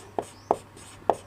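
Chalk taps and strokes on a board during a physics lesson, three short, soft marks spaced a fraction of a second apart in a quiet room.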